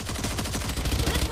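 Rapid bursts of gunfire in a Valorant ranked match fired through smoke, dense repeated shots running steadily and loudly throughout with faint voices underneath.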